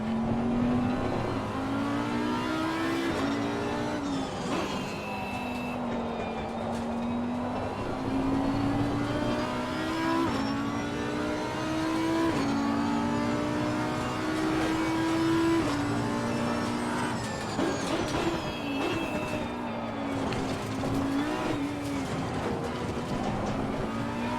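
GT3 race cars lapping Zandvoort in Assetto Corsa Competizione, a continuous loud engine drone rising and falling through gear changes, with occasional brief tyre squeals, no talk.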